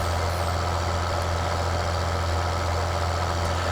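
A tractor drives over crops on hilly Belgian fields in Farming Simulator 2013, its engine a steady, loud, low droning hum that runs unbroken with no voices.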